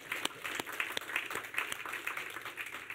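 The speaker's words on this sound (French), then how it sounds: "Oui, on peut les applaudir." Applause from a church congregation during a Sunday worship service, a sparse scattering of claps of moderate loudness spread over a few seconds.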